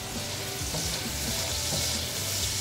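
Onions and garlic frying in a pan for a vegan fettuccine Alfredo, with a loud, dense sizzle and a few stirring scrapes, heard up close and alone.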